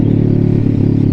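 A Kawasaki motorcycle, mid-rebuild on a test ride, runs steadily with a loud, close engine drone and an even, throbbing rumble, with no talk.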